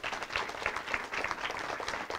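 A room full of people applauds volunteers at a school honoring ceremony, steady dense clapping that holds at an even level throughout.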